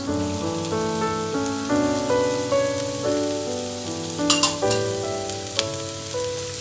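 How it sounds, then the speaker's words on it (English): Tomatoes fry in a pan for palak paneer, giving a steady, soft sizzle throughout, partly under light background music. "And fry till the tomatoes become soft."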